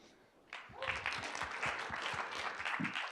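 Audience applause at an effective altruism conference talk, starting abruptly and building into a dense, steady wash of many hands clapping, moderately loud, with a few sharper individual claps.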